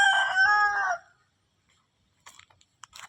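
A rooster crows once on a farm, a clear, fairly close call lasting about a second, followed by quiet and a few faint, scattered bird noises.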